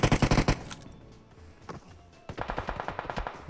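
Shooter video game gunfire: a loud rapid burst of automatic fire at the start, a quieter lull with scattered shots, then a second sustained automatic burst close by.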